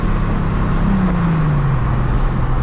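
Engine drone of a Nissan 350Z with a single exit exhaust while driving from inside the car, a steady loud note that slowly drops in pitch as the revs fall.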